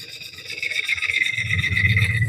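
A walnut bowl spins on a wood lathe as the cutting tool works the last inch, a close rasping scrape that grows louder and rougher toward the end.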